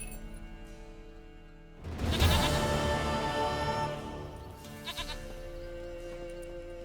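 A goat in The Witcher 3 lets out a loud, wavering bleat after a quiet start, followed by a shorter, fainter bleat, with no speech.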